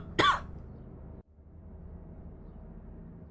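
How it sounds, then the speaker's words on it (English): A single close cough bursts out near the start, followed by a quiet stretch of low background hum. "I'm gonna cough again."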